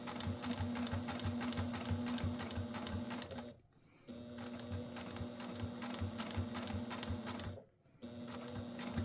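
A sewing machine stitches felt for a tissue holder, running in long steady rhythmic bursts with two brief pauses, close and clear.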